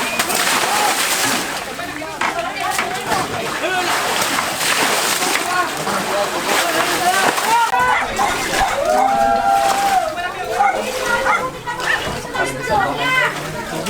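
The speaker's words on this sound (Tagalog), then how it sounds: "Yun, naglilimas pa oh." Floodwater splashes and sloshes as a flood-damaged house near the Dumacaa River in Lucena City is bailed out after heavy rains, loud and close, with voices talking throughout.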